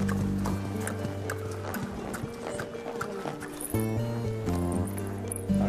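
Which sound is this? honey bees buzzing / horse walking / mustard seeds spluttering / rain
horse walking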